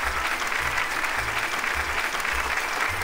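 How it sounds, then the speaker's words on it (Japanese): Steady applause from a large crowd in the PS2 game Zettai Zetsumei Toshi, dense and continuous, with a low rumble pulsing underneath throughout. "では皆様、拍手を持ってお迎えください。"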